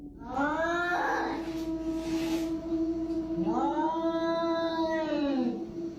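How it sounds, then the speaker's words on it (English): A house cat yowls in two long drawn-out wavering cries, loud and close with a short gap between them, in a quiet indoor home setting. "That's a cat."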